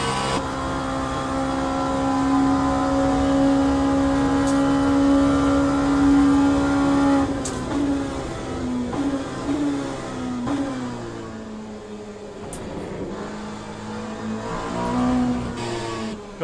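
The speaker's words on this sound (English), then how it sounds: "That must be a hypercar behind, even though it doesn't look like a hypercar" Racing car engine note from the Le Mans Ultimate game, with one car holding a steady high drone before revving and shifting through gears as another car comes past, loud and continuous with no talking.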